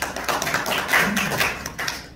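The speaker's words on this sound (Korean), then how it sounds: "박수로 모시겠습니다." Seminar audience claps to welcome a retired professor to the podium, producing a dense, moderately loud patter of hands that swells slightly midway and then gradually thins out.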